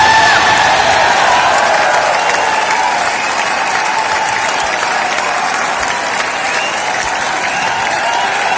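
Loud, sustained applause from an audience at a leadership training talk, a dense, even roar of clapping with a steady high hum running underneath and no voices over it.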